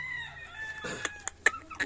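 A fighting rooster crows nearby, with clucking chickens and other fowl calls breaking in briefly around it.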